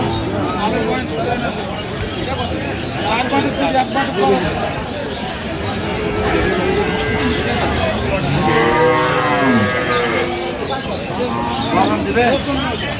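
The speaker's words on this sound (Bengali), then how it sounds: "গাভী বাছুর" Cow with her calf mooing at a busy cattle market, Aftabganj haat, the lowing rising over constant crowd chatter and bargaining voices around it.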